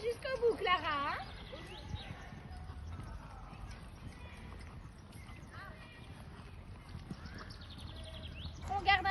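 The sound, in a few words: horse trotting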